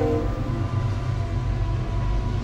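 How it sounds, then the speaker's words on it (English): A train rumbles past in a steady, heavy drone of low wheel and engine noise, close and loud, with a faint tonal hum riding over the continuous rolling sound. "Thank you, train."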